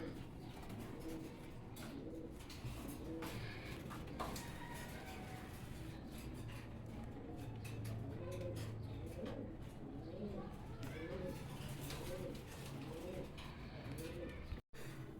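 Lahori pigeons, including a silver Lahori male, coo over and over in soft, rolling, repeated calls close by, while someone talks steadily over them.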